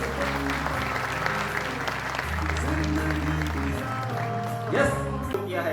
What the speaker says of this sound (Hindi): तो मैं चाहता हूं कि इन दोस्तों के लिए एक जोरदार ताली हो जाए।